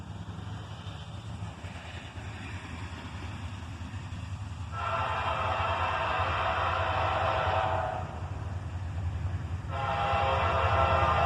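A manifest freight train approaches under a low, steady rumble of wheels and engine, while its horn blares in two long, loud sustained blasts separated by a short gap. No one speaks.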